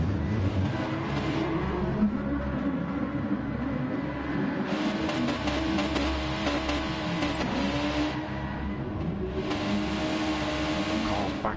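Race cars in a racing video game circle Spa-Francorchamps in a Gr2 league race, several engines droning and revving close by at a fairly low level, with bursts of brighter, harsher engine noise coming and going.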